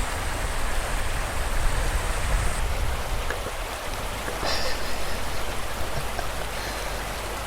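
A river in Glen Nevis, Scotland, rushing steadily as a dense, even wash of water noise, close and continuous throughout with no voices.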